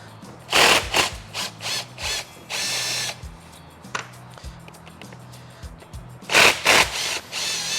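A ratchet removes bolts from a winch gearbox during servicing, making several short bursts of rapid clicking separated by quieter pauses, close and fairly loud.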